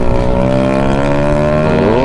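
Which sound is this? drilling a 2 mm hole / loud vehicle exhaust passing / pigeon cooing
loud vehicle exhaust passing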